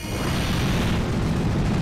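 Pokémon Explosion move in Pokémon Omega Ruby: a dense, sustained rumbling blast of game-sound noise, loud and continuous for a couple of seconds with no talk over it.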